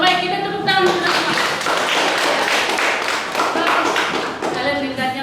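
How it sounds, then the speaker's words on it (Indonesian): Schoolchildren in a classroom clapping their hands together, a dense burst of close, loud claps with some voices mixed in, lasting several seconds. "kita tepuk tangan untuk semua"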